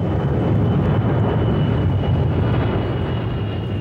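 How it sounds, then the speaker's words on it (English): A U.S. Air Force C-17 cargo plane gives a loud, steady, deep engine roar from inside or close by, with no break. "The U.S. Air Force agrees to fly Keiko home nonstop in a C-17 cargo plane"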